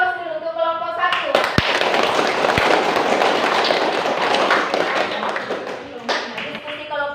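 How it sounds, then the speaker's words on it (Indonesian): A classroom of students gives group 1 a round of applause, a dense, steady wash of clapping hands lasting about five seconds, framed by a teacher's voice before and after. "Kita kasih aplaus dulu untuk kelompok 1."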